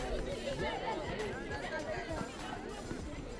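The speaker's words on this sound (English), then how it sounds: "There's a lot of conversation from the crowd as well, speculation about which team is going to win" Crowd at a basketball game chattering in a dense, steady babble of many overlapping voices, moderately loud and close, with no single voice standing out.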